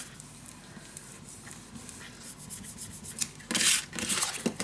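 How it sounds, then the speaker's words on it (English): Scrapbook paper is burnished down onto glue with a soft, steady rubbing and rasping that grows louder and scratchier near the end, close and alone. "burnish it down nicely so the glue is nice attached"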